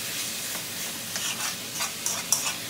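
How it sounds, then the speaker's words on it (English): Bacon and onions frying together in a pan, a quiet continuous sizzle with a few brief scraping stir sounds toward the end. "after the bacon starting to cook, so at this stage we'll add in the onions as well"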